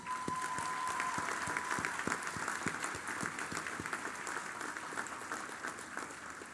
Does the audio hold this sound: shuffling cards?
no